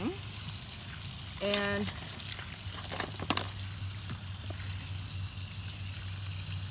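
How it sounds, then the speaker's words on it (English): A garden hose on its shower setting sprays water onto a pique assiette mosaic mailbox, a soft steady hiss heard a little way off, with a brief spoken word and a couple of faint knocks. "After about 24 hours, it's safe to use the hose. And I'm just going to go over it on the shower setting."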